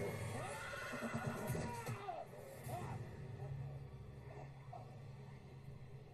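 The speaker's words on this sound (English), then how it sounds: "Oh, the horse is getting spooked!" A spooked horse whinnies and neighs amid a dramatic TV scene from The Walking Dead, with hoof clip-clops and other scene sounds mixed around it at moderate distance.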